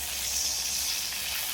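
Water poured into a pan of frying Bengali magur fish curry with masala, a steady broadband hiss and sizzle held evenly throughout at moderate loudness, with no talk.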